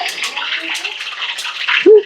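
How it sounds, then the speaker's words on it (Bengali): Water poured into hot cooking oil in a home kitchen gives a loud, steady hissing sizzle, ending with a brief voice at the close. "তেলে জল ঢেলে দিচ্ছ।"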